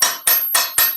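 A small hammer strikes four times in a steady, evenly spaced rhythm, each blow a sharp, close metallic tap with a short ringing tail, heard during hobby painting and rebuilding work.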